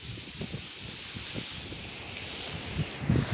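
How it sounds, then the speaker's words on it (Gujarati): Strong storm wind in a village, heard from a veranda during a sudden rainstorm, roars and gusts in a steady, moderately loud rush with faint rustling bursts. "આમ જો પવન ફૂલ છે અત્યારે"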